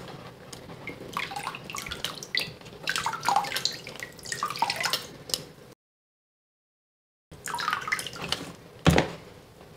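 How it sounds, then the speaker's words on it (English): Water is squeezed out of fabric-flecked paper pulp pressed under a grating during handmade papermaking, with close trickling, dripping and splashing in two bursts separated by a silent pause, plus a sharp thump near the end. "I'm going to put my grating on top and squeeze out the water."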